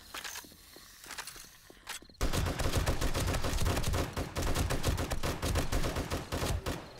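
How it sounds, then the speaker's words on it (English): Rapid, sustained gunfire in the zombie survival game 7 Days to Die during a Blood Moon horde night, a dense stream of loud close shots that bursts in after a quieter stretch and continues with only brief pauses. "I started shooting him"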